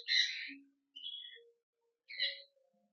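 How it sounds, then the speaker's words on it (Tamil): Birds at a bird park in Kandy give three short bursts of bright chirping calls, well spaced and at moderate distance, with faint lower calls between them and no talking. "பாருங்க, நிறைய பறவை இருக்குது."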